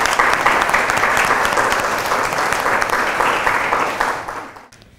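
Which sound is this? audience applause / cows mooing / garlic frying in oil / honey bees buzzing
audience applause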